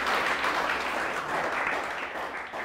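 A church congregation claps steadily at an anniversary worship service, a dense, sustained wash of applause at full loudness throughout, tapering only slightly at the end.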